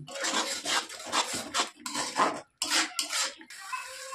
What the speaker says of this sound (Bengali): দিয়ে মশলাটা আবার একটু আমি ভালো করে কষে নিচ্ছি।